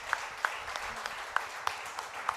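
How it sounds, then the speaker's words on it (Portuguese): A church congregation applauds after a prayer, a faint, scattered clapping with a few sharper individual claps standing out over a soft background wash. "Você pode aplaudir o nosso Senhor"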